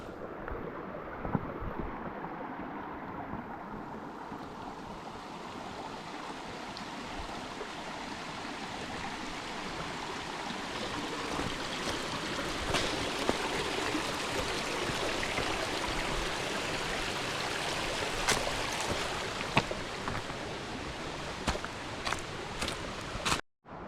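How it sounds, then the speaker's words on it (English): River water in Shenandoah flows steadily across a hiking-trail crossing, a close, continuous rushing and gurgling wash with faint clicks and knocks near the end. "So I just got to cross the river."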